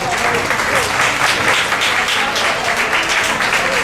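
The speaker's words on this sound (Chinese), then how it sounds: "好，我们给这些站起来的给他鼓掌好不好？" Church audience at a gospel dinner applauding, a dense, continuous patter of clapping filling the room, loud and steady without a break.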